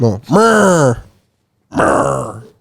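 A person vocally imitates the groan of a Minecraft illager, two drawn-out, wavering nasal groans separated by a short pause, loud and close.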